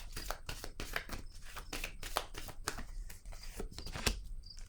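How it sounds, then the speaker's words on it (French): Tarot cards are handled and laid down close by, with a run of soft papery flicks and light slaps on a surface, quiet and without voices. "je vais déposer une autre carte ici"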